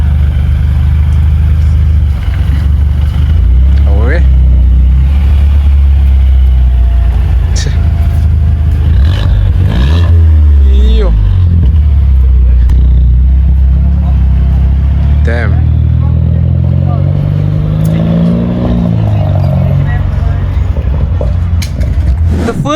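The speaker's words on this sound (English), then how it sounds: "This car has an aftermarket exhaust and it's super loud." Mercedes-Benz A250 with a loud aftermarket exhaust revs hard and close by, its engine swelling and dropping in several bursts over a steady idle rumble, while people talk briefly nearby.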